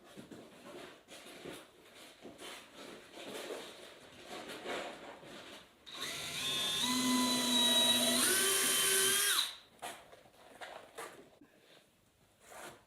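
Quiet handling noises give way to a loud whirring power drill driving a screw into wood for about three seconds, its pitch dropping as it works, then quiet clattering resumes.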